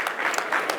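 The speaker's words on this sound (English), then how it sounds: "Give yourself a round of applause, guys." Short burst of audience applause at a speaking event, a brief patter of claps rising and falling over under a second, close and moderately loud.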